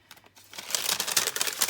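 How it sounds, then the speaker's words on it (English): Decal scissors snipping off the bottom of a small paper or plastic bag for a craft journal, heard as close, crisp crinkling and cutting sounds that start quietly then grow steadier and louder. "Use my decal scissors."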